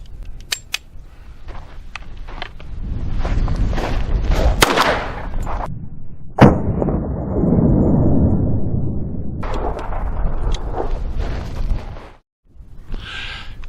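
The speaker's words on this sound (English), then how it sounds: "we put a lot of rounds through this today" An Astra A-75 .45 ACP pistol fires at a range, several sharp close reports scattered between stretches of broad rumbling noise and handling sounds.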